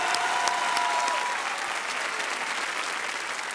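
A television talent show audience applauds the musicians, with thick, continuous clapping and a few sharper individual claps standing out near the start, holding steady and moderately loud throughout.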